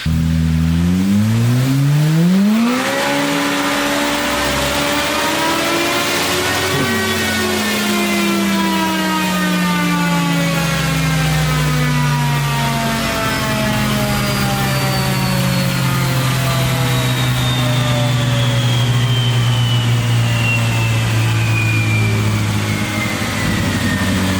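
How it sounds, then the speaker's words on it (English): Polaris Pro R side-by-side with a BoonDocker turbo kit, its big engine loud and close as it revs up sharply, holds, then winds down into a steady drone with turbo whine rising, no talking. "This big motor with a turbo on it makes so much torque"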